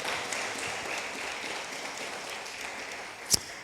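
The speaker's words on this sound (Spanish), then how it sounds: "denle el aplauso al Rey" A church congregation applauds softly, a faint, distant wash of steady clapping lasting a few seconds, with one sharp brief knock near the end.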